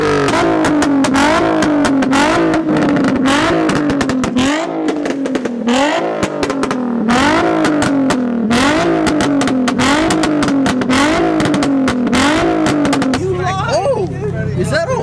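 Car with a Tomei exhaust revving repeatedly in loud, rising-and-falling bursts, close by at a car meet, with people chatting and a crowd murmuring underneath.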